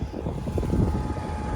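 A combine harvester cutting a flattened crop of wild oats and barley gives off a continuous heavy low-pitched drone with wind buffeting the microphone. The brief stretch is steady and close.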